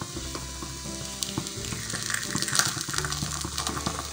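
Paniyaram made from leftover rice fry in a pan as each one is flipped, a close, crackling sizzle. Scattered sharp pops and scraping clicks from the turning land over a steady bubbling hiss.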